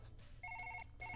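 Phone ringing in the Surgeon Simulator video game, two short bursts of rapid trilling electronic rings over a low background hum.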